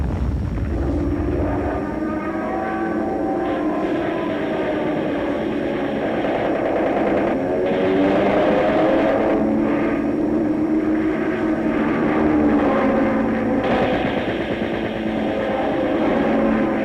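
World War II warplanes flying overhead, their propeller engines making a steady, rumbling drone that swells and fades slightly but never stops, with no voices.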